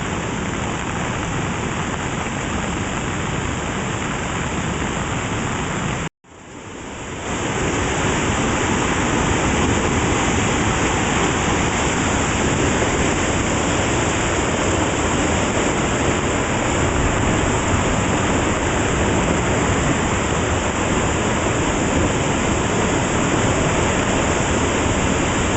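A fast-flowing creek swollen by a rainstorm rushes with loud, constant broadband roaring, close and unbroken apart from a brief cut near the start.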